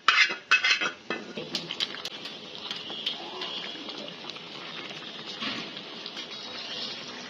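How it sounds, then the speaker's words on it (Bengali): Lightly fried chicken tipped into masala in a pot for egg chicken biryani, opening with a burst of metallic clinks and clatter and settling into a softer, continuous bubbling sizzle with scattered scrapes. "আমি মশলাতে চিকেন দিয়ে দিচ্ছি"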